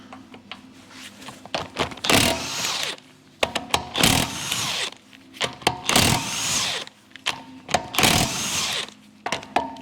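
Power tool removing wheel nuts from a Volkswagen Touran, several loud close bursts of whirring and rattling hammering separated by short pauses and clunks.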